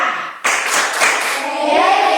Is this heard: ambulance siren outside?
no